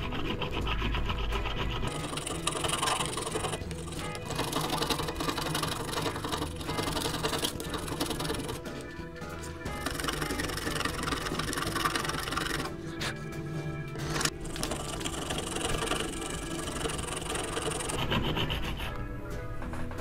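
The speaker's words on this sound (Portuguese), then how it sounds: "Para essas peças inferiores, você lixa desse jeito, ó." Sandpaper worked by hand over the lower parts of a CNC machine's X and Y rails, a steady rasping rub repeated in long strokes with brief pauses, close and continuous with no talk.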